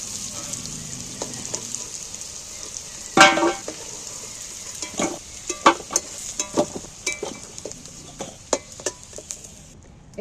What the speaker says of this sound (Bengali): দেখো আলুগুলো একদম লাল লাল করে ভালো করে ভেজে নিয়ে, এবার আমি আলুগুলোকেও তুলে নেব।